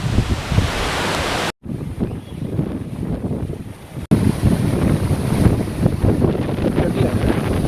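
Spray from the Agaya Gangai waterfall in the Kolli Hills makes a constant broadband rushing roar, close and loud, with wind buffeting the microphone and two abrupt dropouts.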